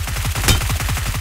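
Rapid automatic gunfire in a video game, a steady burst of evenly spaced shots with one louder blast near the middle, close and loud with no talk over it.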